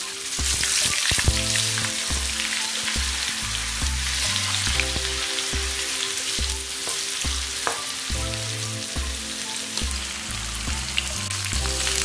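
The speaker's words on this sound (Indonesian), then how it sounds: "Lanjut goreng tahunya." Tofu fries in hot oil for Indonesian home cooking, giving a steady close sizzle and crackle that runs throughout under a rhythmic background tune.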